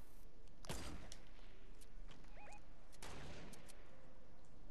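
Gunfire rings out in Fortnite: a few sharp, distant shots scattered over a steady background hum, with no talking.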